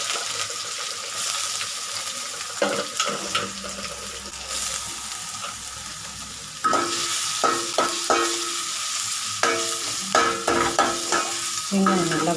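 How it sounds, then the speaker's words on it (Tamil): Onions with curry leaves and dried red chillies fry in hot oil in a pan, a steady close sizzle broken by repeated scraping, clattering stirs of a spoon against the metal. "வெங்காயம் நல்லா வதங்கட்டும்."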